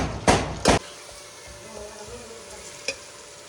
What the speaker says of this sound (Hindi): अच्छा सा चम्मच हिलाते हुए तकरीबन 5-6 मिनट इसको ब्राउन करती हूँ